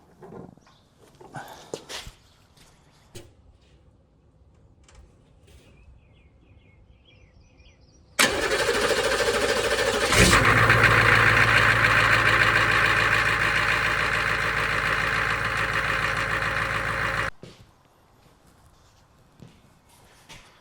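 A Humvee engine turns over and catches, then runs loud and steady at idle for about nine seconds before abruptly shutting off, with faint handling noises before and after.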